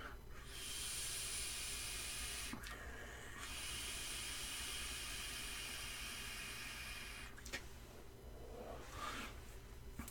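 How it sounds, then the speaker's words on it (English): An e-cigarette set around 30 watts being puffed indoors, producing a long, faint, steady hiss of vapour with a brief break partway through and a few soft clicks near the end. "I'm vaping Muffin Man in here just now"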